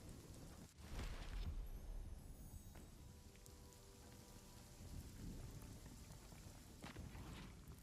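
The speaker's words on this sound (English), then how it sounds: "But you always have rain." Steady rain pours in the RuneScape: Dragonwilds game world, a dense continuous hiss with a low rumble of thunder building near the start and swelling again later, with no voices over it.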